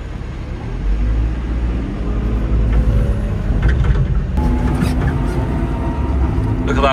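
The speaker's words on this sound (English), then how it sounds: "Look at that little tractor pulling that big trailer." A steady low engine rumble of a small 3065 tractor hauling a big trailer loaded with hay bales through a field, close by and continuous, with mechanical rattling layered over it.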